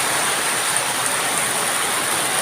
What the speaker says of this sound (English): We actually needed this rain.